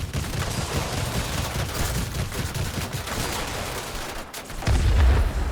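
An enemy aircraft's tail gun in the Hawker Hunter flight combat game fires in a sustained, loud rattling burst, followed by a short gap and a heavier low boom.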